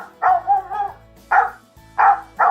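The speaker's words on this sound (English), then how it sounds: "This is the dog barking." A dog barks four times up close, loud, clipped woofs in an uneven rhythm, with short pauses between them and no one talking.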